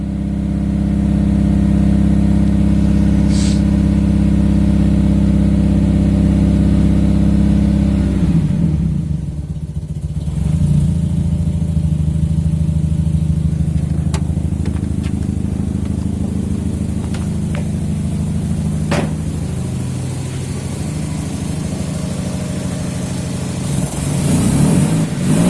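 Nissan KA engine in a right-hand-drive car idling roughly close by while the throttle is held to keep it running, a loud steady drone that dips and wavers midway, then settles at a lower, uneven idle.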